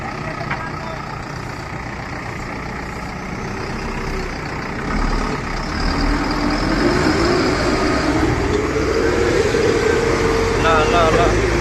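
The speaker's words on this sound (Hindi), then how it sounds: "हम लोग का जेसीबी उस्ताद जो पूरा ठेल रहा है ट्रैक्टर को" A JCB excavator pushes a stuck tractor, with a steady heavy diesel engine rumble that grows louder and strains higher partway through, and people talking over it.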